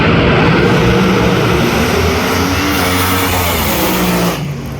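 Drag racing cars at the Night Under Fire event send out a loud, sustained engine roar at close range that holds steady and then drops off sharply near the end.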